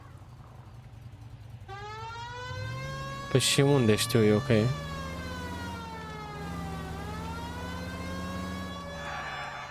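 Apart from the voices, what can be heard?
police car siren in video game L.A. Noire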